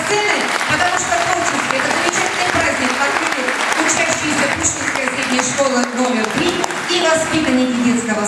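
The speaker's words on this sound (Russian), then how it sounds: "давайте аплодисментами наших юных артистов проводим" An audience applauds young performers at a children's event, steady sustained clapping filling the space with voices mixed in throughout.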